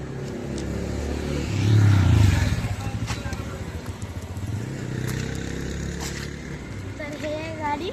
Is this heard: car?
yes